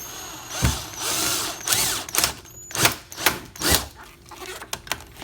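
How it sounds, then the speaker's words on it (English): A power drill whirs in short bursts drilling into a Subaru Crosstrek bumper, spinning up and stopping several times, with a ratcheting mechanical rattle between runs. "All you gotta do now is drill"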